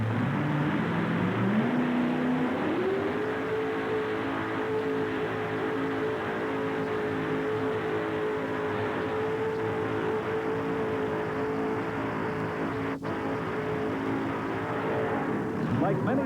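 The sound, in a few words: homemade pulling tractor with 572 cubic inch Chevrolet engine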